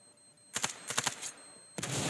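Rapid bursts of gunfire from the mobile shooter game Standoff 2, with several quick shots, a short pause, then another burst, fairly loud and alone.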